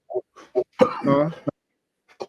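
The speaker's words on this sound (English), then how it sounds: "I was coughing." A man coughs and clears his throat in a short, close burst of harsh bursts, mixed with brief speech.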